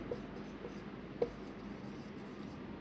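A pen or chalk writes in a quiet classroom-type setting. Faint scratching strokes are heard, including one brief sharper tap, over a low steady room hum with no talking.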